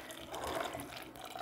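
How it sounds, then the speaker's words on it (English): Warm water pours from a container onto the peel of one ripe orange for homemade vinegar, a soft close splash and trickle lasting about a second and a half, with no talking over it. "Okay, then I'm going to add my warm water"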